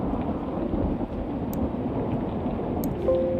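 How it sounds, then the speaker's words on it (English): Thunderstorm ambience playing as background audio: a steady, dense wash of heavy rain with a low rumble of thunder running beneath it, continuous and fairly loud throughout, with no voices. "I'm going to turn down this thunderstorm audio because it is"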